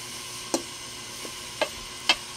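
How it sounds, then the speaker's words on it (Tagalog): Fresh alamang shrimp paste with tomatoes is stirred in a pan over a low sizzle, with three or four sharp spoon clicks and scrapes against the metal. "Ayan, haluin muna natin"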